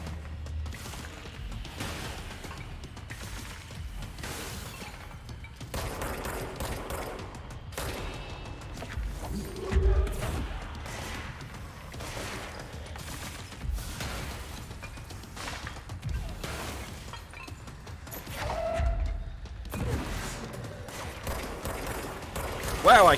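Gunfire from shooting in the video game Control, with repeated sharp shots and mechanical clanks at an irregular pace under a steady game backdrop, moderately loud, with someone talking at times.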